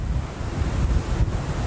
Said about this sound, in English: It's just really windy.